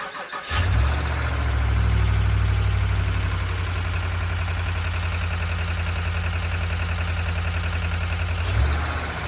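Hemi V8 engine cranking and catching after a valve repair for ticking clatter, then settling into a loud, steady rumbling idle close by for several seconds before cutting off near the end.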